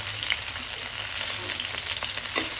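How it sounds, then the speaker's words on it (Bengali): Fish fries in hot oil in a pan with a constant hissing sizzle and a few sharp pops and crackles, even in level and heard alone without voices. "আমাদের মাছ ভাজা হয়ে গেছে।"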